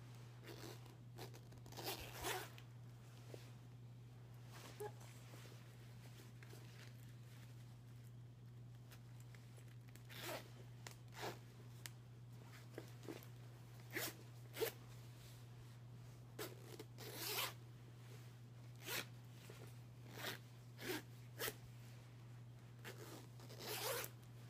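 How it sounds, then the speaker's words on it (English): A clothing zipper is zipped and unzipped in close, crisp bursts, some quick and some drawn out, with quiet pauses between and a low steady hum underneath. "Yeah, I like how it zips up too."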